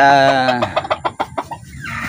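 Chickens cluck close by in a quick run of short, choppy calls, preceded by a drawn-out squawk.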